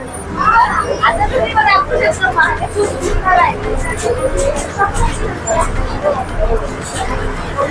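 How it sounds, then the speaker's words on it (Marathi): Outdoor crowd at Manori temple during Datta Jayanti, with steady babble of many voices and passing bikes and traffic mixing into a continuous busy hubbub near and far. "खूप गर्दी आहे."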